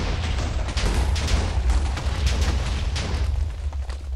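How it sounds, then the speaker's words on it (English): Fireworks burst in the Minecraft video game, a rapid string of muffled booms and pops running together into a dense, rumbling barrage, loud and continuous with no talking. "Fireworks!"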